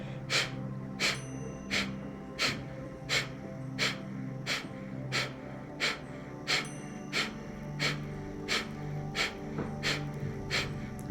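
A steady series of about fifteen sharp, forceful nasal exhalations from a pranayama breathing exercise, at an even, quick rhythm, close and distinct over a faint low hum.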